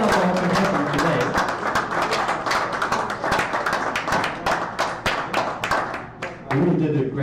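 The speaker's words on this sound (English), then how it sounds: "And a round of applause to all of our contestants today." Audience at an Astronomy on Tap science pub night in Bonn clapping for quiz contestants, a dense, close round of hand claps lasting several seconds.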